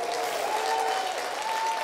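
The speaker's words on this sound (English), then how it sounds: "Let's give the Lord a clap offering" A church congregation claps together in dense, sustained applause at a Rosh Hashanah service, with a faint tone sounding through and no break for the whole stretch.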